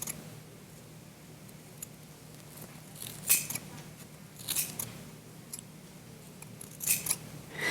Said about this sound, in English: and trim your pom-pom.